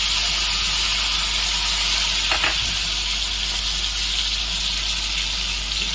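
Ground onion hits hot oil with cooked fenugreek seeds and sizzles in a loud, constant hiss, with one brief stir or clatter partway through.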